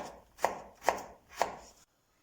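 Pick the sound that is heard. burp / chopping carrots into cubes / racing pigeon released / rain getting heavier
chopping carrots into cubes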